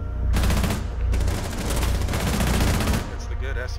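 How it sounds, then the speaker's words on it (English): SMG fire in Rainbow Six Siege, loud rapid automatic bursts: one short burst, then a longer sustained volley after a brief gap, close and dense, with game noise trailing off at the end. "That's the good SMG."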